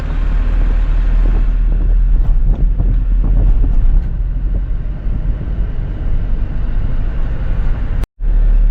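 Strong wind roars across the microphone on a mountain ghat road, a loud, continuous rumbling buffet with a brief dropout near the end.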